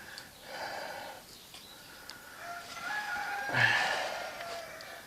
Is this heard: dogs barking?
no